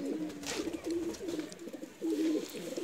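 A Ferozpuri breeder pigeon coos close by in soft, low, rolling bursts, repeated several times over a few seconds.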